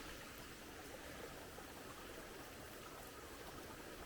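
Runoff water flows steadily down a slope channel on Mediterranean dryland, muddy with clay washed from a road, a continuous soft rushing trickle at moderate distance with no pauses.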